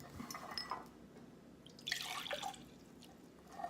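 Water poured from one container into another, a trickling splash in two bursts, first brief and then a longer pour, close and fairly quiet against a faint background hum.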